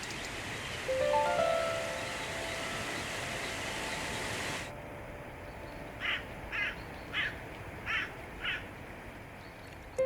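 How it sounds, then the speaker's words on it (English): Crows cawing near an Italian volcano: a windy, breezy wash settles, then five evenly spaced harsh caws ring out clearly over the quiet background. "Crows know they will find a carcass to eat, but prudently wait for the breeze to clear the air."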